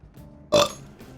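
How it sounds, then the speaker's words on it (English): A person gives a single abrupt hiccup, close and fairly loud, during an otherwise quiet moment. "Great, yeah. Now I have the hiccups."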